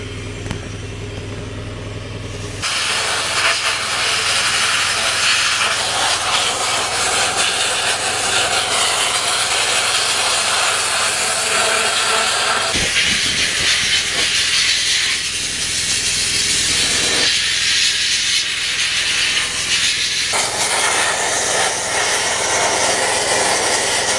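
Sandblasting a tractor frame and parts: a loud continuous hissing blast of air and grit running for long stretches, dipping briefly between passes, with no talk.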